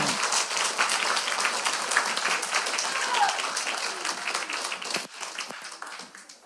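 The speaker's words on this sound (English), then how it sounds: "big round of applause" A room full of people at a church Bible quiz event gives a big round of applause, with dense, loud, continuous clapping that starts strong and gradually thins out toward the end.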